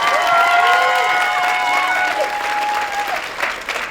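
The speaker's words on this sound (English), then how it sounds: "Let's give her a round of applause." Applause from an audience at a school spring spectacular honoring an award recipient, a steady wash of clapping that stays full before gradually thinning out, with a few voices in the crowd.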